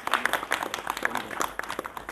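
A gathering at a religious satsang claps to welcome a visiting guest, a scattered, uneven round of hand claps in a room, with some louder nearby claps over softer ones.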